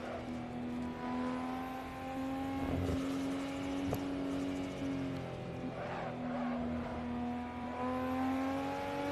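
Nissan Skyline engine in Assetto Corsa on the Nürburgring, a steady droning engine note with strong harmonics holding a sustained pitch, rising slightly and dipping, with brief tire noise bursts, continuous and fairly loud.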